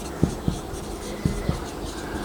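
Pen on paper writing numbers while working an income and expenditure account problem, four soft taps in two pairs, close and quiet with no talk.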